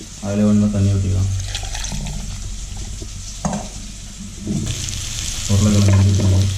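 Water is poured into a pan of meal maker and potato curry with onion and tomato, giving a splashing, stirring and faint sizzling sound close by, under someone speaking.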